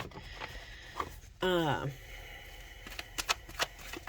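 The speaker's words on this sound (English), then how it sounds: "This deck, I have such a hard time sometimes shuffling." Tarot cards are riffled and shuffled in short bursts, a few quick papery flutters and taps close by, with a voice briefly heard.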